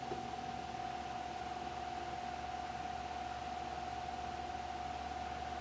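A Fasco Charleston 38-inch ceiling fan with steeply pitched blades runs at a steady pace, giving a constant airy whoosh with a faint steady motor hum, no talking.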